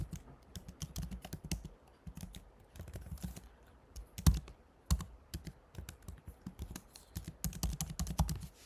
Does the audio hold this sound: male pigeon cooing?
no